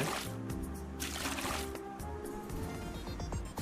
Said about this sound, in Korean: 야 물소리도 나네